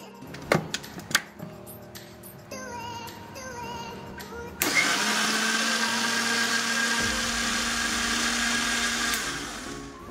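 A kitchen blender grinds chilli, ginger and spices into a paste for a koi fish curry. A few clicks and knocks come first, then the motor starts with a loud, steady whirring roar that holds to the end.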